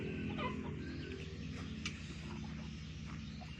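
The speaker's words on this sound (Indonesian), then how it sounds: "ini ayam hutan" Low, soft clucking from a fowl repeats over a steady droning hum, the calls faint and somewhat distant.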